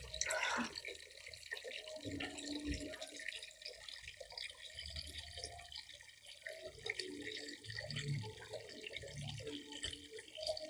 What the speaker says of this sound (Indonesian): Kita penuhi dulu airnya